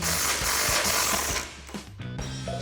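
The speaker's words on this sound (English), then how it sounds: "So we're going to grab our impact and 21 millimeter socket on the head" An impact wrench with a 21 millimeter socket removes suspension bolts on a Ford F-150 during a front leveling lift kit install, giving a loud, close, continuous mechanical rattle for over a second before dropping to quieter clanks and shop noise.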